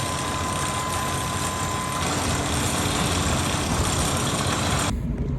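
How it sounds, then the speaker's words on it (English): A truck engine idles at a well drilling site, a steady low rumble with broadband noise that runs close and continuous, then drops away abruptly near the end. "I think I hear a truck."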